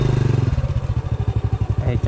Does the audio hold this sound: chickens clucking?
no